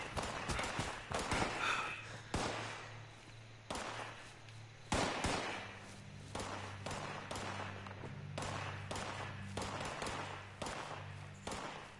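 Repeated gunfire in the Fallout 76 video game near a Mothman cult camp, irregular bursts of sharp thumping shots that come and go over a steady low in-game hum.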